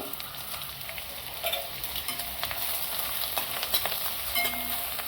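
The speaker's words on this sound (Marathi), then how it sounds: "हे बघा आता तुपात चांगलं भाजले" Spices roast in ghee for Punjabi-style chole, a steady close sizzle and frying crackle with frequent scraping stir strokes and no talk.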